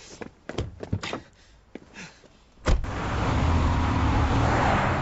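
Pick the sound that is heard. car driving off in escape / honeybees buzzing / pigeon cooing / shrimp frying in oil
car driving off in escape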